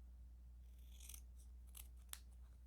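Scissors snip across the top edge of a dark, embossed cardstock panel for a handmade card, a few quiet, brief cuts over a steady low hum with no talking.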